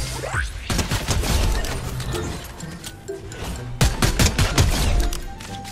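A rocket launcher fires during a Fortnite match, with sharp blasts and mechanical clatter over dense game effects and no talk.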